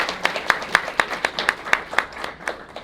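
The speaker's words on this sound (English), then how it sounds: "Could we give them a round of applause for hosting us?" A small audience at an embassy event in Manhattan claps for its hosts, with sharp, evenly spaced individual claps in a steady rhythm sounding close and distinct.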